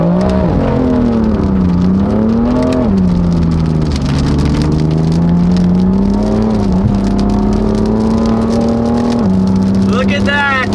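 A lowered BMW M4 accelerating on a rainy road gives a loud, steady engine drone that rises and falls in pitch over about ten seconds, with wet road hiss underneath.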